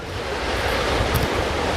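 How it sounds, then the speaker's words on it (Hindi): Sea waves wash onto the shore at Kanyakumari in a steady, loud roar of surf, with wind buffeting the microphone and no voices. "कन्याकुमारी में समंदर का ये किनारा, समुद्र की हिलोरों की आवाज"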